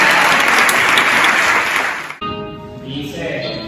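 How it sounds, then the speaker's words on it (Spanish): An audience applauds a rap artist at a rap workshop event, loud sustained clapping for about two seconds that cuts off abruptly, followed by fainter scattered room noise and softer lingering claps. "A este gran artista una gran ovación."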